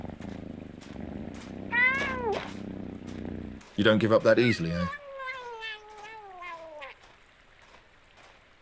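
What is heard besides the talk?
cat meowing in a video game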